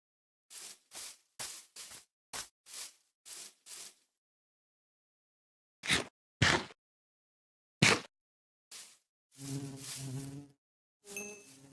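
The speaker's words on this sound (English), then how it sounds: "if you feed flowers to bees, they will breed and create even more bees" Bees in Minecraft 1.15 make short buzzing bursts in an uneven rhythm, with a cluster near the start and scattered buzzes later, each sounding close and fairly loud against silence.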